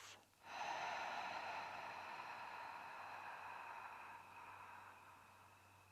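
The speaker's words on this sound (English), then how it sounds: "if you would like to try the ha breathing," A long 'ha' breath out through the open mouth during a yoga session, a steady, breathy rush that holds for several seconds close to the listener in a quiet room.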